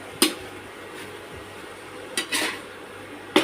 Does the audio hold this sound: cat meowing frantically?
no